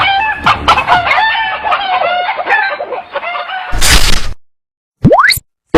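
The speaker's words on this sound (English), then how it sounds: "Kinda like being a chicken in a coop" Chickens cluck and a rooster crows in a loud, busy stretch of overlapping calls, followed by a sharp burst of noise, a brief silence and a rising cartoon boing-like slide.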